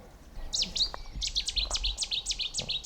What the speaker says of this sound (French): Là c'est la bouscarle de Séti.